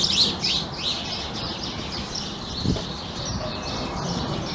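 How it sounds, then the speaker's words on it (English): Birds chirp busily in high, overlapping tweets, strongest at the start, over a steady outdoor background hum. "The birds are going crazy today."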